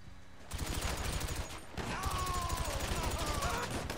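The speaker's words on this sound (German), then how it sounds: "Alter, die schießen den Zaun weg!" Rapid automatic gunfire in GTA Online, with dense repeated shots starting abruptly and continuing, briefly pausing, then resuming as a steady close barrage while a person talks over it.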